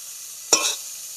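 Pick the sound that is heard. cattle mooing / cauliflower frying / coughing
cauliflower frying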